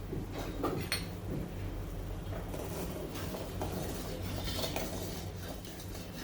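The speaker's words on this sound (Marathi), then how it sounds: "असे साखर मिक्स करून घ्यायचे पाण्यामध्ये प्रॉपर." Sugar being stirred into water in a pan for gulab jamun syrup, a steady soft scraping and swishing with faint clinks, close and continuous under a constant low background hum.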